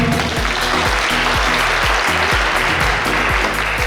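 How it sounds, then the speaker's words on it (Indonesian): A crowd applauds at a trade expo in Central Java over loud music with a thumping, steady bass beat. "Tepuk tangannya dong."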